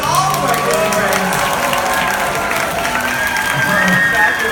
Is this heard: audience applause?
yes